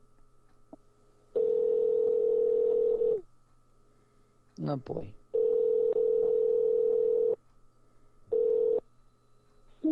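A telephone rings back while someone returns a call: long, steady ringback tones with silent gaps between them and a burst of dialing blips in the middle. A man mutters briefly under it.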